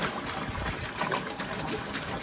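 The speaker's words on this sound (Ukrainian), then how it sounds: "Заливаю воду. Бачок." Water pours steadily into the tank of a homemade two-row cabbage planter towed by a tractor, a close, continuous rushing trickle with no talking.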